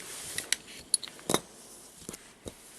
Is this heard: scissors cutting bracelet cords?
yes